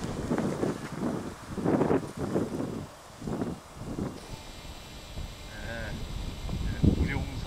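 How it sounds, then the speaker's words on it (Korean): Steady gusting wind off the sea near Ulsan, loud and buffeting against the microphone, with voices talking over it throughout. "바람"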